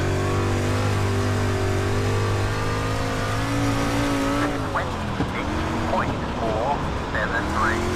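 Street stock race car engine in iRacing at USA Speedway holds a steady loud drone, then swings into rising and falling revs near the end as throttle comes on and off through a corner.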